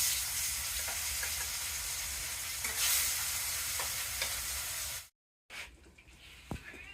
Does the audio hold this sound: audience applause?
no